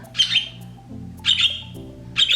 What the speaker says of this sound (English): This is what the birds do when we're trying to work.